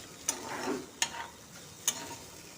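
A spoon stirs vegetables and lentils in a cooking pot, giving three sharp scraping clinks spaced about a second apart over soft bubbling and a low background hiss.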